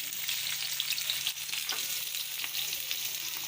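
Onion dropped into a hot pan of oil in a home kitchen, giving a dense, steady sizzle up close that holds evenly throughout, with no talking.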